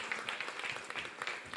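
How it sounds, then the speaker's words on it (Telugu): A congregation claps together in praise of God at a church service, a soft, steady patter of many hands with scattered sharper claps, heard from a distance and fairly faint. "గడిగా చప్పట్లు కూడా దేవుని మహిమపడతామండి"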